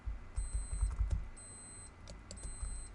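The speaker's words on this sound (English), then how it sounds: "There's just this beeping, I think from my watch." Faint, thin electronic beeps from a watch repeat in short regular bursts, high-pitched and quiet, over soft background shuffling.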